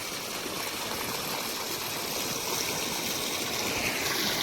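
Irrigation water flows steadily through a farm channel, a continuous broad rushing and trickling that stays even and fairly close, with no voices.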